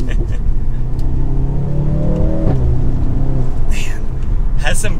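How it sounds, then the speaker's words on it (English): A 2023 Mercedes-AMG C43 4MATIC accelerates hard, its engine droning steadily under a voice with a few brief exhaust pops and crackles near the end. "has some good sounds, a few little gurgles and pops on the exhaust system"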